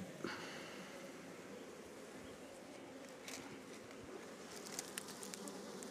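Chinese honeybees humming steadily inside a wooden hive box, a soft continuous buzz with faint rustles, no voices.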